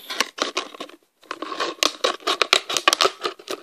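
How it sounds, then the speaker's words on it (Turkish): Scissors cut through a plastic bottle in a quick series of sharp crinkling snips, close and crisp, with a brief pause partway and then a denser run of cuts. "Ve şişe sesinden özür dilerim."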